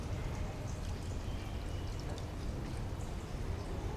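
Milk poured into a pan on a low flame while making palatalikalu, a steady soft splashing pour that runs evenly, quiet and close.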